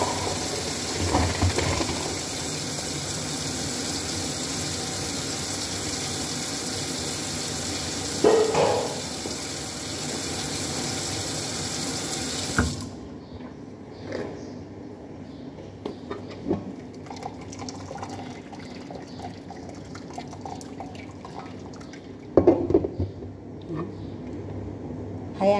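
Water runs steadily from a kitchen tap into a sink with a constant broad rushing hiss for about half the time. Quieter sink clatter, drips and light handling noises follow.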